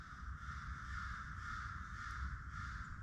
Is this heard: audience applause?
no